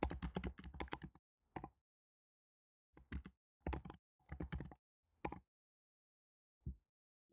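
Bursts of keystrokes on a computer keyboard as link text is typed, several quick clusters of clicks separated by short pauses, close and fairly quiet with no talking.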